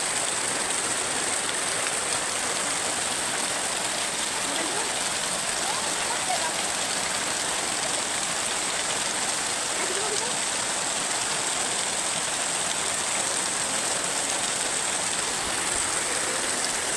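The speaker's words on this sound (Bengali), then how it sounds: "চারিদিকে মুষলধারে বৃষ্টি হয়েছে" Heavy monsoon rain pours down around an outdoor kitchen, where a lungi is hung up as a rain cover. The roar is a dense, unbroken wash that stays loud and even from start to finish.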